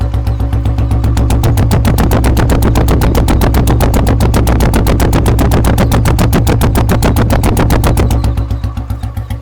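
A fully restored 1976 Royal Enfield motorcycle engine idles close by with a steady, rapid thumping beat, loud and unbroken with no talk, easing slightly at the very end.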